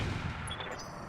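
Mech cannon fire in a clan battle video game, a dense low rumbling burst heard close and loud for about a second, with no talking over it.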